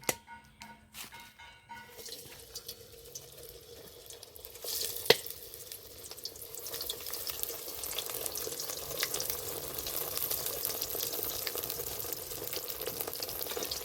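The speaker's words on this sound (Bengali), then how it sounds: "এবার একটা একটা করে বেগুন নিয়ে তেলের পরে দিয়ে দেব" Eggplant slices are lowered one by one into hot oil in a wok, starting with quiet clatter and then building into a steady crackling sizzle that continues close and even.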